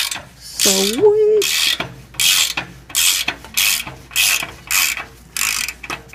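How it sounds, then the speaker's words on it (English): A ratchet works a rusted exhaust stud out of a Toyota near the oxygen sensor, giving close, loud bursts of rapid clicking in a steady back-and-forth rhythm, with one short spoken exclamation early on. "Oh, I hope this is turning that stud out."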